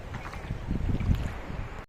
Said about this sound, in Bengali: সমুদ্রের ঢেউ কত যে সুন্দর